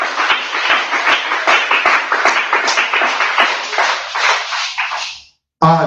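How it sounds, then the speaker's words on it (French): A church congregation applauding, a dense, steady run of claps that stays loud for several seconds, then thins and fades out, ending in a short silence. "Est-ce qu'on peut applaudir le Seigneur?"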